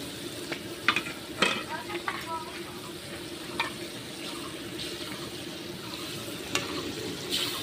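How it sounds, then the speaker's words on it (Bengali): Fish slid into a boiling pot on a wood-fired clay stove: a steady bubbling, sizzling bed with scattered splashes and clinks, close and moderately loud, with no talk. "এখন মাছ দিয়ে দিলাম।"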